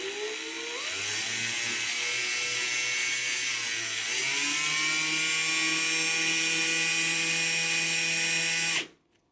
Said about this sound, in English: this is how you do a coil with a drill.